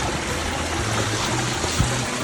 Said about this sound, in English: as soon as I step over this little creek here